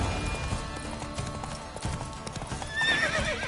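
Roach, a horse in The Witcher 3, gallops in a rapid clip-clop of hooves close by, and a short neigh or whinny rings out near the end.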